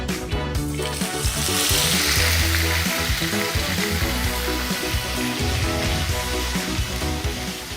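A paste of onion, ginger, garlic and chili hits hot oil with bay leaves and cumin in a pan, setting off a loud burst of crackling sizzle that settles into steady frying with a few stirring scrapes.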